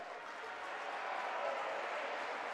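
Fans at a high school basketball game between Cardinal Mooney and Waterloo clap in a steady, moderately loud wash of applause that holds evenly for a couple of seconds, with no voices standing out.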